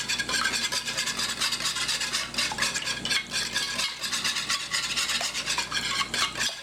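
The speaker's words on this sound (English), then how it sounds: "Mix in your eggs, use the wire whisk." Wire whisk beating raw eggs in a bowl while making eggplant parmesan, a steady brisk scraping and stirring rattle that runs continuously and fairly close, with no voices.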